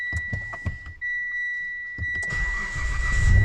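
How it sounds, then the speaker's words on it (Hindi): A Mitsubishi Montero engine cranks and starts up near the end after a dashboard warning chime sounds steadily, then settles into a rising idle rumble, close up with no talk. "आप देख सकते हैं गाड़ी मैंने दोबारा स्टार्ट की है"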